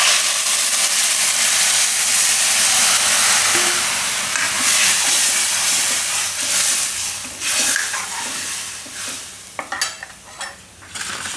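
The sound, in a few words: spice mix added to hot curry-leaf and asafoetida tempering, sizzling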